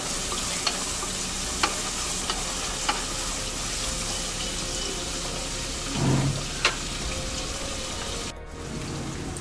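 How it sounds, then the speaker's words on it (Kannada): Ginger and garlic frying in a pan for a South Indian rice dish, a steady soft sizzle with occasional light taps of a stirring spoon against the pan and no talking. "ಹಸಿ ವಾಸನೆ ಎಲ್ಲ ಹೋಗಿ ಫ್ರೈ ಆಗ್ತಾಯಿದೆ"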